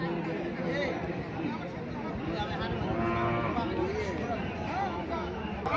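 Cattle moo repeatedly at a busy cattle market, with loud crowd chatter and people talking throughout over the lowing animals.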